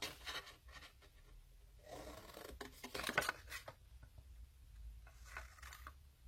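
Scissors snip through paper while a flip-book is being made: close, soft, irregular cutting strokes and rustles, with no talking.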